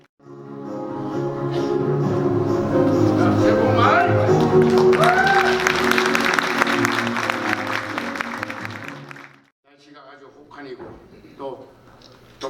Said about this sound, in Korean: 역시 큰 박수 부탁드릴까요?